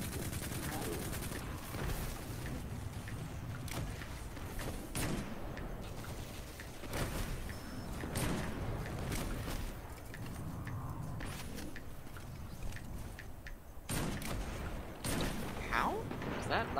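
Gunfire from the video game Destiny 2: dense, continuous bursts of weapon shots and impacts with repeated sharp cracks over a steady game soundscape, and a voice speaks in places.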